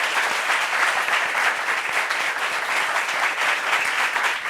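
A studio audience applauds at a French television talk show, steady dense clapping that stays loud and even throughout with no talking over it.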